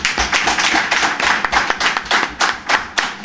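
A small audience at an education gathering claps in honor of the AME staff, with distinct, uneven hand claps close by rather than a dense roar. The claps last only a few seconds, with no voices.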